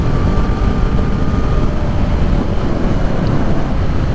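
Steady, loud wind rush over a droning 2020 Kawasaki Z400 motorcycle engine while riding, with no talking.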